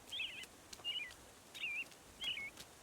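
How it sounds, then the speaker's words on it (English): Birds chirp in a garden in the game Garden Witch Life, four short high warbling calls spaced evenly apart. The calls are faint and clear over a quiet background. "I hear more birds"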